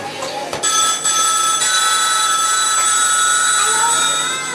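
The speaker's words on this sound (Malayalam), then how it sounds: "ഈ സമയം നിരവധി ഫോൺ കോളുകൾ തനിക്ക് വന്നുകൊണ്ടിരുന്നു." A telephone rings continuously with a dense, buzzing electronic tone, loud and close, filling the whole moment without pause.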